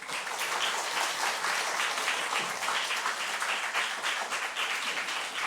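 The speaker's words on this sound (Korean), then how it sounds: "우리 나오실 때 큰 박수로 좀" A church congregation at a worship service applauds together, a dense, even clapping that carries steadily and fairly loud throughout with no speech.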